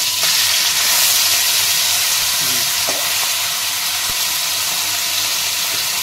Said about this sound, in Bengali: আমি মাছটা ভেজে নিই